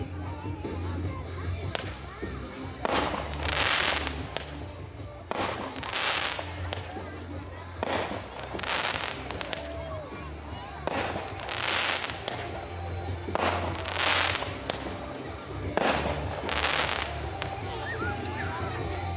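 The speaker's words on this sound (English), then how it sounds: "Next is Cosmic Conflict, which is a 6-shot cake." A six-shot firework cake fires a series of sharp bursts at an outdoor demo, each followed by crackling, with steady background noise throughout.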